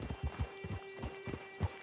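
Horse hooves clip-clopping in the Red Dead Redemption 2 video game, a steady walking rhythm of about eight hoof strikes, close and clear over a faint background tone.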